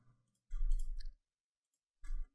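A computer mouse clicks twice during 3D modeling work, each a short, close, distinct click separated by near silence.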